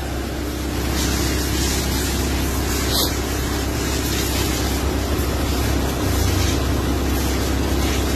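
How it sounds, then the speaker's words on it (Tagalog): A Mitsubishi Lancer engine runs steadily during break-in after a PCV valve replacement and an overheating fault, giving a continuous close, even drone with no breaks. "Yung makina mo okay na, umaandar na."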